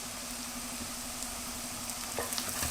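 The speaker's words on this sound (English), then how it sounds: "cook the garlic with the parsley" Garlic and parsley fry in a pan with a quiet, even sizzle and a low steady hum beneath, joined near the end by a few light stirring scrapes.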